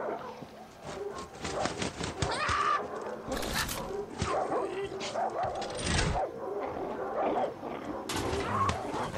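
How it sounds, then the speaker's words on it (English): Several dogs bark and growl in Far Cry 6, sounding close and aggressive in repeated bursts over a busy game soundscape with other noises throughout. "Those dogs are going to tear him to pieces."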